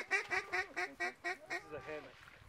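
A run of about ten loud, raspy quacks in a steady descending series from a mallard hen calling nearby on a small creek.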